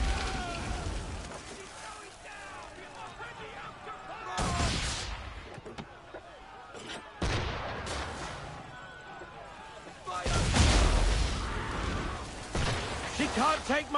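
Cannon fire booms out during an Assassin's Creed III naval battle, with several heavy blasts rolling in at intervals amid battle noise and a talking player.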